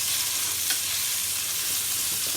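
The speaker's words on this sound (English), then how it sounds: "I'm going to sear this, then on both sides, just a little bit of browning going on each side" A beef fillet for beef Wellington searing in a pan, a steady, close, hissing sizzle that holds evenly throughout with no talk.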